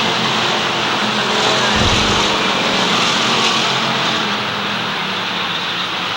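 Strictly stock cars race around Waterford Speedbowl in 1991, a dense steady engine roar from the pack filling the track without pause.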